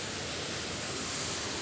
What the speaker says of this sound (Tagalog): Wala, ang lakas ng hangin.